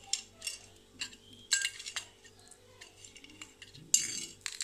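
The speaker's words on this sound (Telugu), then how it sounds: "ఇవన్నీ కలిపి కొంచెం దంచుకుందాం" Coriander seeds, cumin, garlic and peppercorns are pounded together for rasam, giving a few sharp, clinking knocks spaced irregularly over a quiet background hum.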